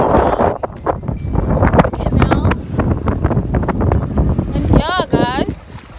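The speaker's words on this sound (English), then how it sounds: "we're just taking a ride around the canal" Gondola ride along a canal, with steady wind buffeting the microphone over water and boat noise, as people chat throughout and a few voices rise near the end.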